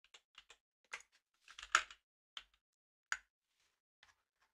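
Keys clatter on a computer keyboard during a live C coding session, in short irregular bursts of clicks with one denser flurry near the middle, quiet and close with no talking.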